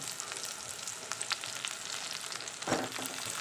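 Ground peanut stuffing masala goes into browned onions for stuffed brinjal curry, a soft, fairly faint sizzle with light stirring scrapes and one brief clatter, with no voices.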